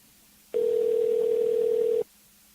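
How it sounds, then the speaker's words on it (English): A telephone dial tone sounds while a call is being placed: one steady, clear electronic tone that holds for about a second and a half and then cuts off, with no voices over it. "Let me try calling her again here."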